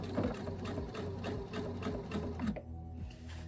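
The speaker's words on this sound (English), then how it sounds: "So carefully, I am going to start to sew this end together." Sewing machine stitching the seam of a fabric infinity scarf, a steady close rhythmic whir and needle chatter that halts briefly near the end, no talking.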